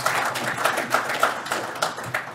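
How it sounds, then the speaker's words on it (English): A small audience claps at a plastics injection molding talk, a steady patter of individual hand claps close by, lasting a couple of seconds without voices. "Give a round of applause here for Rich."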